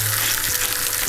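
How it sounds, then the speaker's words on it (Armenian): Apricots fry in a pan with a dense, steady sizzle that stays close and even for about a second, with no voices over it. "Ծիրանը տապակում եմ"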